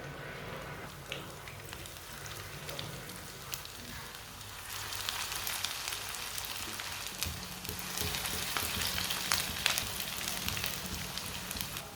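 Kebabs fry in a pan of hot oil, giving a steady crackling sizzle that grows a little louder partway through, close and continuous with no talking.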